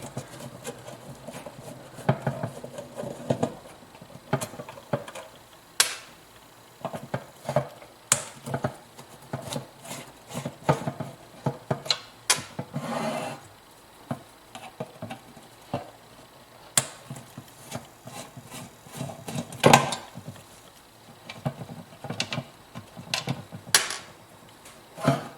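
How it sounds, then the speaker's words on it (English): Five screws are taken out to separate a lawn mower carburetor from its gas tank: quiet, irregular metallic clicks and scrapes of a tool on the screws, close up and sporadic, with no talking. "there are 5 screws that we're going to take out to separate the carburetor from the gas tank"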